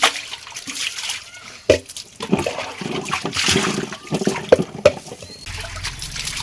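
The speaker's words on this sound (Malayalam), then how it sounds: "നമുക്കൊന്ന് വെള്ളം ഒഴിച്ച് നന്നായി കഴുകി കൊടുക്കാം" Water poured to rinse and wash out a home fish tank, sloshing and splashing in uneven bursts with a few sharper splats, close by and moderately loud, with faint voices in the background.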